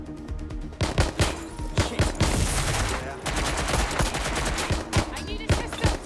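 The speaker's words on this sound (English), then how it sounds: "Someone shooting!" Rapid bursts of automatic gunfire from a firefight in the video game Watch Dogs Legion, loud and close, with dense repeated shots and a brief lull midway before the shooting resumes.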